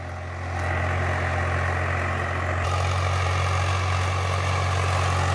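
A 27-28 year old Swaraj 735 tractor runs pulling a 9-tine cultivator, its diesel engine a steady low rumbling drone at close range, with no voices heard.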